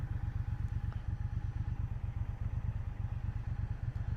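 A Triumph Bonneville Bobber Black motorcycle rumbles steadily while being ridden, its low engine pulsing in a fast, even rhythm that stays loud and close throughout, with no voices.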